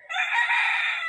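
A large rooster, offered for sale at a market, gives a single loud, close crow that lasts about a second and stands alone without talk.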